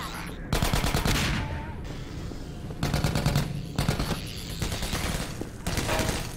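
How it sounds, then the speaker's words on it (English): Repeated heavy gunfire from the shotgun in Half-Life 2: Episode One, several loud blasts in bursts with sharp combat noise between them and no talking. "I'll switch to the shotgun."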